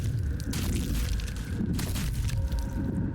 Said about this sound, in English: I'm just waiting until the explosion finishes.